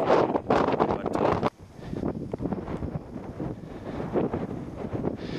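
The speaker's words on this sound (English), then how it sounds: "But it's very windy at the top of Mount Elbert." Strong, continuous wind buffeting the microphone with a roaring rumble, gusting louder and softer throughout, at the summit of Mount Elbert, Colorado.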